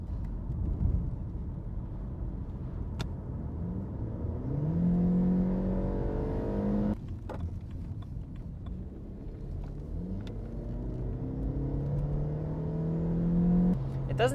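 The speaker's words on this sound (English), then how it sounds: "It doesn't have much power since it's just a 2-liter petrol, but it has enough" A BMW E90 saloon with a 2-liter four-cylinder petrol engine drives along, its steady engine hum rising and falling through gear changes, with a continuous rumble and road noise inside the cabin and a few brief clicks.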